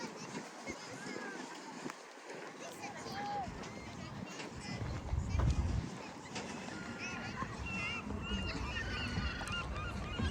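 Geese honk repeatedly at a park lake in Regents Park, London, the calls rising over a steady hubbub of people talking and outdoor noise, moderately close.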